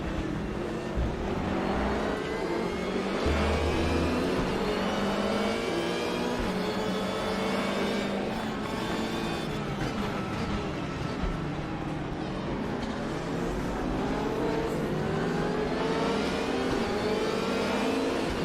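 A car engine in the Raceroom racing game revs steadily throughout, its pitch rising and falling through gear changes with tire and road whir beneath, loud and continuous from start to finish.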